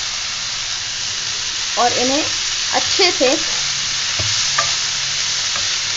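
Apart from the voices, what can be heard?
radish leaves added to a hot pan and stirred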